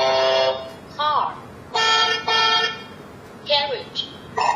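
A kids' electronic talking book plays a car horn as two short, loud, buzzy honks in quick succession. Brief synthetic spoken phrases come before and after.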